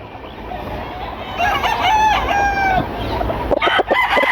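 A gamecock rooster crows once, loud and close, a drawn-out cock-a-doodle-doo over steady background noise, followed by a few sharp clucks and knocks.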